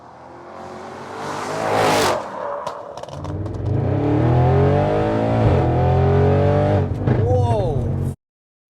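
An Audi RS6 fitted with hybrid turbos accelerates hard from inside the car, its engine note climbing through loud rising revs and gear changes, with people talking over it.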